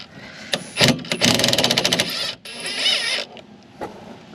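A 12mm socket ratchet loosens the brake hose bracket bolt on a 2013 Honda Civic rear brake, a close run of rapid mechanical clicks that comes in bursts with brief pauses.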